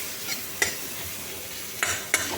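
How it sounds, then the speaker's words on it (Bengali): Vegetables sizzle in a pan while a utensil stirs them, giving a few sharp scraping clacks over the continuous frying hiss. "এইগুলো দিয়ে সব একসাথে আবার নেড়ে নিচ্ছি"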